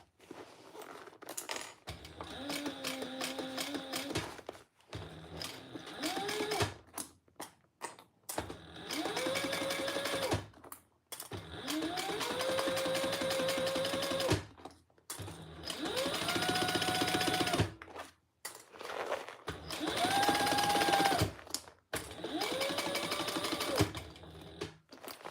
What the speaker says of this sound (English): Back stitching well.